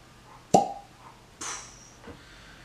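A cork pulled from a bottle of Basil Hayden bourbon gives one sharp pop, followed by a softer squeaky rub and a faint tap, close up and alone without any talk.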